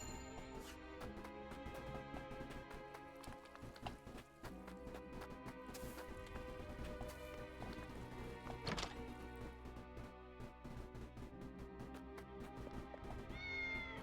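A cat meows several times in the Triangle Strategy video game, clear and upfront over a continuous bed of orchestral background music, with a brief brighter sting midway.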